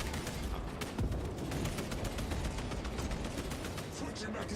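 Gunfire in the Warhammer 40,000: Space Marine II video game comes as dense, rapid bursts of shots and impacts, loud and continuous, with no pause across the whole stretch.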